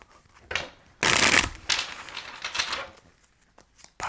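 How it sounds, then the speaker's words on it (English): Tarot cards are shuffled by hand in quick papery riffles: a few short bursts, one long loud flurry, then lighter trailing rustles, close and clear with no speech. "All right, last shuffle."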